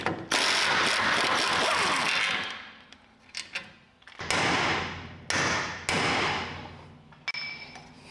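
Ratcheting and metallic clanks come from working a nut loose on the torsion bar of a Datsun 520 pickup, with bursts of rapid ratchet clicking, then several separate sharp knocks and scrapes at close range.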